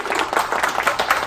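Several claps sound close together in a short, lively burst like brief applause from a small group nearby. No one speaks.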